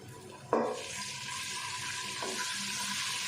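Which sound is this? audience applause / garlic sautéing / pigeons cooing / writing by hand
garlic sautéing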